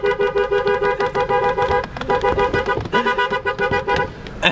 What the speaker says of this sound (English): quit honking